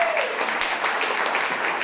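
Audience applause at a comedy show in a theater, a dense, even wash of clapping from a crowd that fills the short moment without talk.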